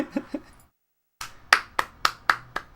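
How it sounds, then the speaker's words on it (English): One person claps their own hands, a few quick claps, a short silence, then five sharp, close, evenly spaced claps. "I'll applaud myself for keeping it real with the timing here."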